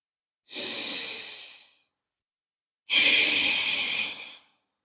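Two deep, slow breaths during a beginner yoga sun salutation, each a long airy rush lasting over a second, close and clear with quiet gaps between.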